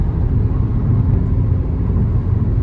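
A car drives on a road during a trip through Odisha, giving a steady low rumble of engine and road noise heard from inside, continuous with no voices.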